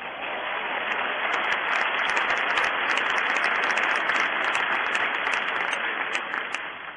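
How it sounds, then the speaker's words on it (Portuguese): A congregation gives a sustained round of applause to God, a dense, even wash of many hands clapping at steady volume for several seconds before tapering slightly at the end. "Um aplauso a Deus pela vida dele."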